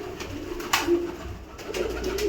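Pigeons in a loft giving soft, low coos at close range, with faint rustling between the calls.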